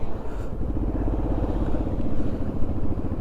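Motorcycle engine fitted with a replacement silencer, running with a steady low throbbing exhaust pulse, close and continuous for a few seconds with no talk.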